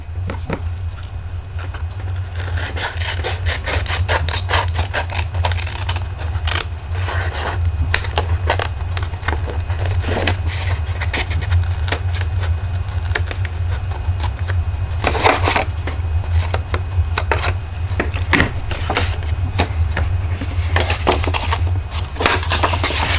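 Paper being trimmed by hand for a slimline envelope, a long run of crisp cutting and rustling snips with scraping handling noises over a low steady hum, close and continuous with no talking.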